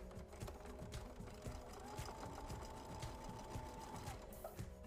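A sewing machine with a quarter-inch foot chain-stitches quilting fabric pieces in one continuous run, a steady close mechanical needle rhythm whirring along for the whole stretch with no talking.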